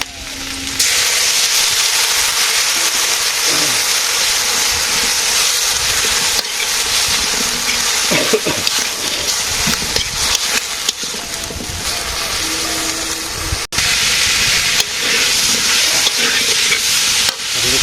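Vegetables sizzle and fry steadily in a pan as spices are stirred in, a loud continuous hiss with scraping stir strokes and brief clatters, no talking.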